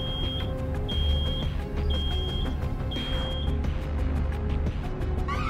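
Electronic alarm beeping in the video game Road 96, steady high-pitched tones repeating roughly once per second, layered over dense game music and ambient noise, with a rising chirp near the end.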